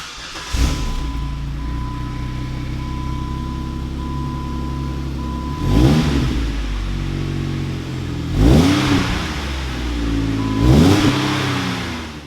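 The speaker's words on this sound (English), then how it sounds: "we got our MagnaFlow catback exhaust installed. It looks and sounds way better than the factory exhaust." A Jeep Wrangler 4-door with a MagnaFlow stainless cat-back exhaust and polished tip idles with a deep, steady burble, then revs sharply three times with pauses between the bursts.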